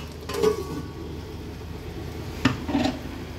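A lid set onto a cooking pot of taro leaf curry, with a clear clatter near the start and another sharp metallic clink about two seconds later, close by over low kitchen background noise.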